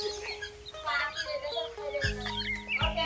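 Chicks in a village chirp in quick high peeping calls, close and busy, with a few deeper clucks from a hen mixed in.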